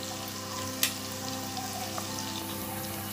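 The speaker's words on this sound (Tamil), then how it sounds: "வெங்காயம் வரமிளகாய்லாம் ரொம்ப நல்ல தாளிப்பு வந்து வெந்துட்டுருக்குங்க" Continuous sizzling of onion and dried chilies frying in hot oil, a steady crackling hiss close by with one small sharp pop.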